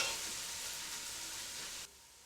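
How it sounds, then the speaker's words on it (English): Chopped red onion frying in garlic and ginger paste, heard as a loud, steady, close hiss of sizzling that cuts off abruptly near the end. "Mix the ingredients well and cook until the onions brown."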